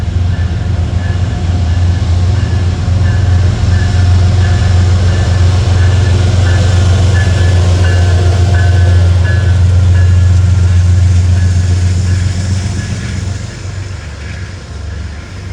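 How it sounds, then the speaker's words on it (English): Inspection train led by Heritage P32 locomotives 214 and 211 rumbling past over a rail yard track, a loud steady low engine drone with rolling noise that holds, then fades slightly at the end. "Right at 148, over track 1 is an inspection train with the 214 and the 211."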